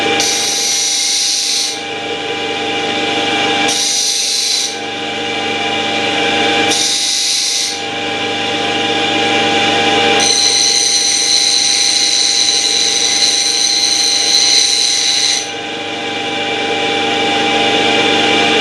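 Loud, steady whine of a bench grinder working a steel wood-carving chisel, in several bursts with short pauses between, then one longer continuous grind.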